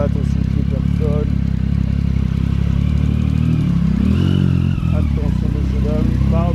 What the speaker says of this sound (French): On va aller garer la moto.